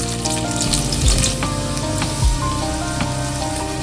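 Garlic sizzling in hot oil for jackfruit bhaji, a steady dense crackle with a few sharper spits and a low thump near the middle, continuous throughout with no talking.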